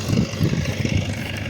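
A tractor engine chugs in a rhythmic low pulse, moderately close, while driving across a potato field during planting, with no speech.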